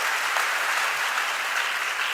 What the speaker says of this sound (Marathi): अशाच टाळ्या